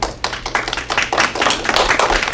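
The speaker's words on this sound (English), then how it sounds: "With my hands go clap, clap, clap." Rhythmic hand claps in a children's dance song, several sharp claps in quick succession, close and fairly loud.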